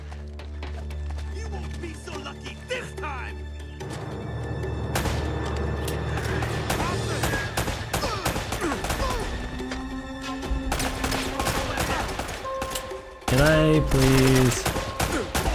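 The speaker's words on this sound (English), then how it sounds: "they're shooting me from all the way over there" Gunfire from the video game Uncharted: Drake's Fortune, scattered automatic bursts and impacts amid game sounds and music, with a player speaking briefly over the action before a loud tonal sting near the end.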